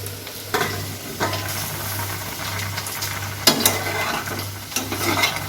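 Vegetables for shukto, a Bengali dish made with milk and coconut, fry and sizzle in a pan with a steady crackling hiss, broken by repeated stirring scrapes, under a low constant hum.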